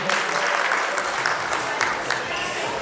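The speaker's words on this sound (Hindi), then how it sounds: "इन सब सज्जनों के लिए एक बार जोरदार तालियां हो जाए प्लीज।" An audience at an awards show breaking into applause, a dense burst of close clapping that carries on steadily across the moment, with a voice speaking over it.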